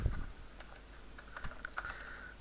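Code being typed on a computer keyboard, a quick irregular patter of light key clicks at close range with a heavier thump at the start, quiet and without speech.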